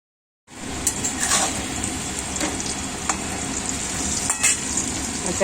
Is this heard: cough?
no